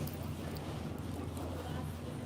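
Steady wind rushing and buffeting against the microphone, a constant low roar that stays even throughout the short stretch.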